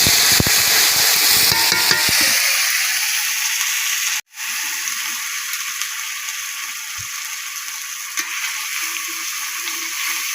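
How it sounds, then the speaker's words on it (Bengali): Ground spice paste with cumin, black cumin and bay leaves frying in a pan, starting with a loud crackling sizzle that settles into a steadier hiss after water is added, with a brief sharp break midway. "মশলাটা ভাজা ভাজা করবো জল দিয়ে।"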